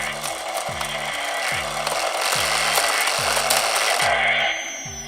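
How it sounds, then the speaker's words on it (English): The motor inside a Matty Collector Neutrona Wand toy whirs in a repeating ratcheting cycle, about seven even pulses with a buzzing hiss over them, close and steady, cutting off near the end. "So you could really hear that motor going when the intensity's up."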